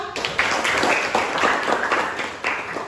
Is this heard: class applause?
yes